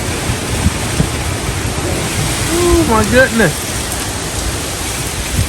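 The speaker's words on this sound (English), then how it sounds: "Tropical storm Nicholas is getting very dangerous now." Tropical storm Nicholas lashes the area with steady, roaring rain and wind, a dense unbroken wash of noise throughout, while a person briefly exclaims partway through.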